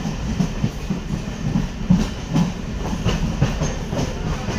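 A near-empty local train between Shantipur and Simurali on a winter night rumbles along the rails from inside the carriage, with a steady low roar and a rhythmic clickety-clack of wheels over joints.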